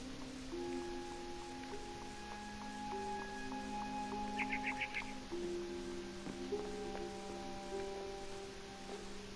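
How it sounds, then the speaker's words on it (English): A barn swallow chirps in short, bright bursts outside a window in the game What Remains of Edith Finch, heard faintly over a soft bed of sustained game music tones. "Then I heard chirping outside my window."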